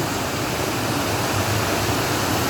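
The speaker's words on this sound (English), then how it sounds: "You can see the waterfall, the fluency of the water" The Cascata delle Marmore waterfall in an Italian mountain park roars with a dense, steady rush of falling water, loud and close from a wooden bridge, continuous with no voices.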